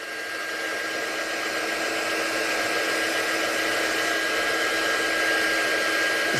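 Heat dryer blowing over a die-cut card, a steady, close, unbroken whooshing hum that holds level for several seconds, with no talk.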